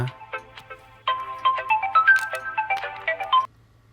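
A melodic phone ringtone plays a quick run of bright electronic notes, beginning softly and then ringing louder for a few seconds before cutting off.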